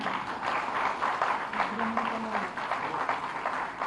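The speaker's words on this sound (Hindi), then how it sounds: "जोरदार तालियां।" Applause from a ceremony audience welcoming a chief minister with a memento presentation, a steady dense wash of clapping for about four seconds with a faint tonal hum underneath.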